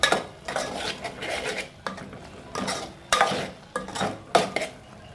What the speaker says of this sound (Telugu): ఫ్రెష్గా తరిగి పెట్టుకున్న కొత్తిమీర అండ్ కొంచెం కరివేపాకు ఈ మొత్తం ఒకసారి తిప్పుకోవాలి